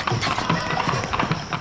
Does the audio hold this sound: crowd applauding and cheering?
no